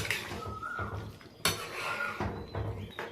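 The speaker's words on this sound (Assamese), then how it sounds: "দৈ এবাটি দি দিলোঁ। লাহেকৈ লৰাই দিলোঁ।" Yogurt stirred into a pot of chicken pulao, with clanks and scrapes of a metal spoon against the pot in a few distinct bursts, close and fairly loud, with no voices.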